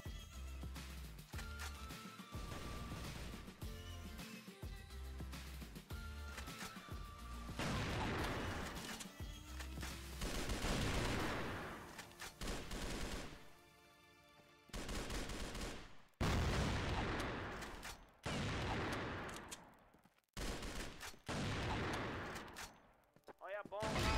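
Dense gunfire from the first-person shooter CrossFire on the Castelo map, with repeated sharp shots and rapid bursts that come loud and close, broken by short pauses, with occasional crashes and booms.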